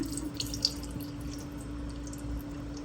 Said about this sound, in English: So you're going to go ahead and drain this water out.